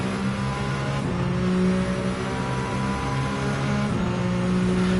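A race car engine in Gran Turismo 7 holds a loud, steady high-revving drone with a few slight swells in pitch, running alone and close with no talk.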